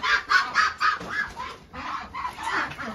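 A flock of 75-day-old Muscovy ducks on a farm, heard as repeated clucking, fowl-like calls in bursts at close range with no talk.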